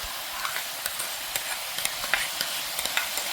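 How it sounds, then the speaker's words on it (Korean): Pork and vegetables stir-fried in a pan for spicy Korean jeyuk bokkeum: a steady close sizzle with repeated light scraping strokes of stirring, no voices. "자, 이렇게 볶다 보면 야채에서 또 물이 나오거든요"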